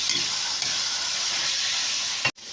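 Hot oil sizzles steadily in a pan before fermented ginamos fish paste is added, a dense continuous hiss close up, cut by a sharp break near the end.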